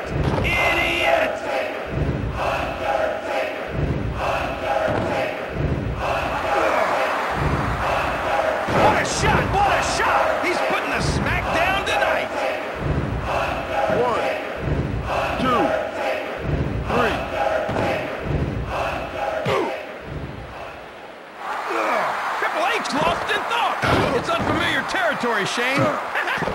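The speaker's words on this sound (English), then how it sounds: "This crowd is pumped up." The arena crowd in the wrestling video game WWF Attitude roars steadily beneath a commentator's talk, with rhythmic thuds and slams from the ring cutting through the noise.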